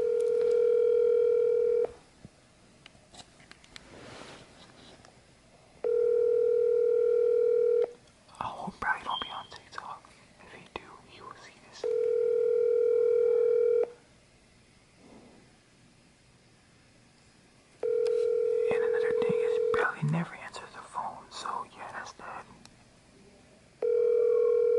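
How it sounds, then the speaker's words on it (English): A phone call rings out on the line: a long ringback tone repeats about five times at regular intervals, with faint whispering and rustling in the gaps between tones. "I'm calling my boy Bradley."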